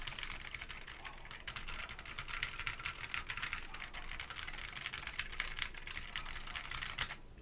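Continuous fast typing on a keyboard fitted with undampened tactile Alps SKCM Cream switches, with crisp, clattery keystrokes close up and no talking.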